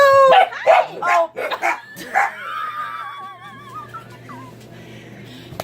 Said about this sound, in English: The dogs like to say hello.